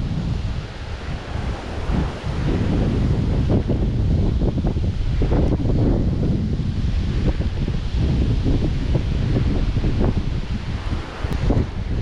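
Strong hurricane wind from Hurricane Nicole blasts into the microphone beside a neighborhood pond, a loud, continuous rumbling roar with buffeting gusts and no talking.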